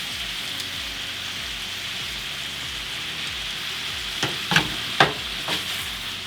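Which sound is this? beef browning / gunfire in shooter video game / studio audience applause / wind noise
beef browning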